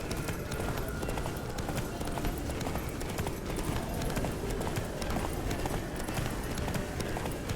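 Steady, rapid hoofbeats of a galloping horse in The Witcher 3 pound on without pause, loud and close, with a dense rushing background and a faint voice underneath.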